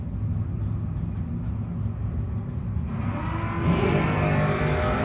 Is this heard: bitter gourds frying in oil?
no